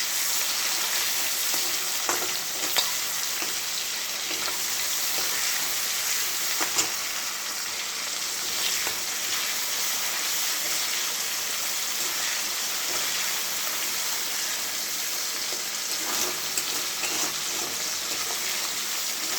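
Bay leaf, cumin, chopped onion and tomato fry in hot oil for a Bengali tempering, making a loud, continuous sizzle and crackle with occasional stirring clicks.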